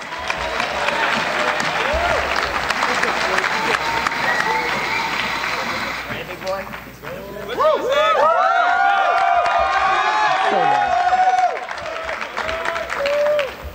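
Graduates at a Berman Hebrew Academy upper school commencement get a loud, dense round of applause that fills the first half, then fades into cheering and excited calls from the crowd.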